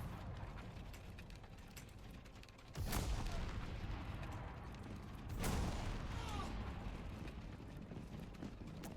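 Troops firing volleys in an Ultimate General style battle game, with two sharp, loud volleys standing out above a constant low battle rumble.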